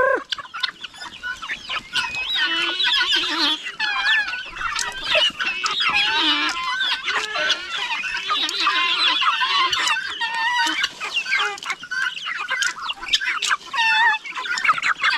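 Backyard chickens kept for food in a rural Philippine home cluck continuously and fairly close, with overlapping calls from several birds and no talking.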